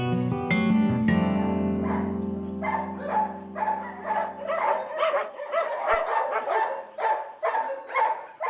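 Dogs at a K9 training camp holding about 30 dogs bark repeatedly in a quick, irregular rhythm, several voices overlapping at close range. A low hum fades out early on.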